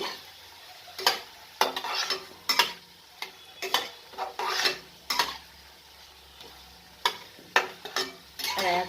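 Spoon stirring ground char magaj (melon seed) paste into a cauliflower curry in a pan, with repeated scraping strokes in an uneven rhythm and a soft sizzle underneath, close and moderately loud, no talking.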